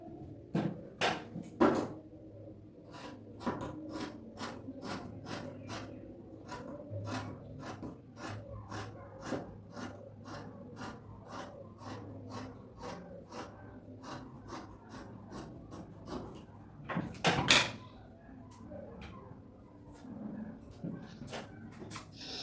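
Scissors snipping through fabric while cutting out two-layer bell sleeves, a long run of quick, evenly spaced crisp cuts with a louder cluster of snips partway through, close by and with no talking.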